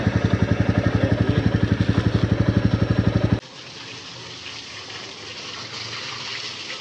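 A fast, steady rhythmic thumping, like a motorbike engine, runs for a few seconds and then cuts off. It gives way to a continuous rush of water from a pipe, set up for washing the motorbike.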